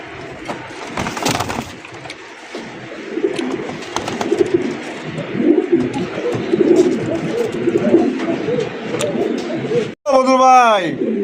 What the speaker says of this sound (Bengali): ভাই এই কবুতর দেখলে এত বড় সাইজ